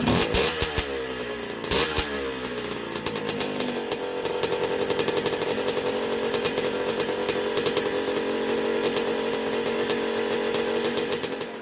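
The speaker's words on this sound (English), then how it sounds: "I think we actually have a video of the bike running." Vintage motocross bike engine running loud and steady, a harsh buzzing two-stroke-like drone with a few sharp revs in the first two seconds before settling into a constant idle-to-midrange hum throughout.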